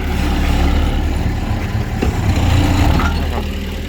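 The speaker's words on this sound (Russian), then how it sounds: "Послушайте работу двигателя." An Airman HM-20 mini excavator engine runs at a steady idle, a loud close diesel rumble with a brief mechanical clatter partway through.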